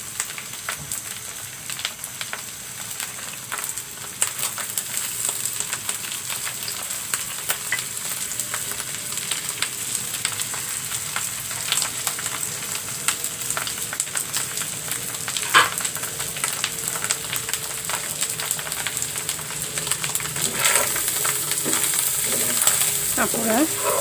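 Water spinach added to fish roe frying in a pan: a continuous close sizzle and crackle with scattered scraping stirs, steady throughout, with no talking.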